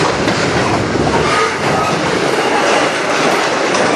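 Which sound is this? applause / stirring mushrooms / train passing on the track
train passing on the track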